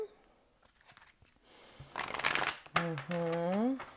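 Cards being shuffled with a quick riffling flutter, followed by a person speaking briefly.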